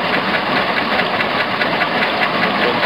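Engine lubricated with vegetable oil instead of motor oil idles steadily with a dense, continuous mechanical clatter and faint knocking, loud and close, with no voices over it.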